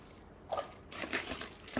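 A plastic bag crinkles and crunches at close range in irregular bursts, the rustling rising and falling over a couple of seconds without any speech.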